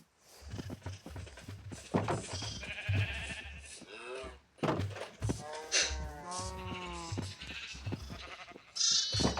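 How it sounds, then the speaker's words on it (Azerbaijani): Sheep bleat repeatedly in Minecraft, the wavering in-game cries recurring throughout amid clicking game sounds, with a player talking over much of it. "Mən bir də balaca qoyun tutmuşam"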